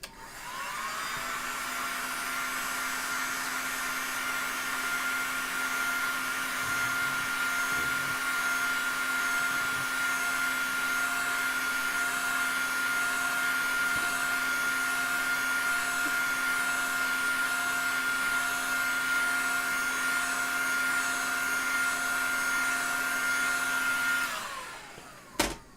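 A hot air tool blows steadily onto an amplifier circuit board to heat it, a loud continuous whooshing hum with a fixed tone that holds for most of the time and cuts off near the end, no voices.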